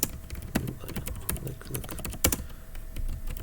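Rapid typing on a computer keyboard, with irregular clicks and a few louder key strikes, close and fairly quiet in an office accounting program session; no talking.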